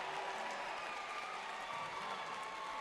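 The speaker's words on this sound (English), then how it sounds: "And you hear the Iowa State fans applauding because a foul was called on Middle Tennessee" Iowa State fans at a women's basketball game against Middle Tennessee applaud after a foul call, a steady wash of arena clapping and crowd noise that fills the whole stretch.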